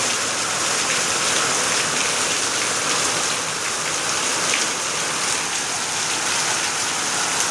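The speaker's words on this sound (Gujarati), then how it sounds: "જો અમારા ગામનો પહેલો વરસાદ" The season's first rain falls in a village, a steady, even hiss of rainfall with scattered drops spattering on surfaces throughout, close and without any talking.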